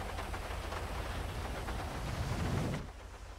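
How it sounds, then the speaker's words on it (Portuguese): Steady rain in the video game GTA 5, a dense hissing wash of drops holding level for almost three seconds before cutting off abruptly, with no voices. "Barulho da chuva."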